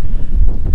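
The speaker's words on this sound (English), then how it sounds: "it's supposed to be like up to 50 mile hour gusts of wind today" Strong gusty wind buffets the microphone on West Beach at Littlehampton, a loud continuous low roar with no voices.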